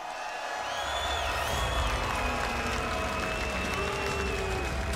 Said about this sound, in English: hence the mixed reaction from the crowd